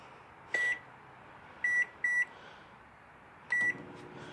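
An outdoor Hamilton Beach microwave cooking bacon gives four sharp electronic beeps, two of them close together, ending with the low hum of the oven starting to run.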